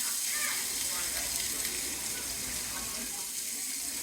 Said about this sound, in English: we're going to start off by searing our onions first